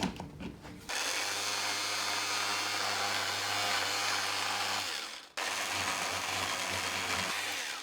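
An oscillating triangle sander, just repaired with WD-40, buzzes steadily with a low motor hum, cuts out briefly, then starts again and runs on, close and loud.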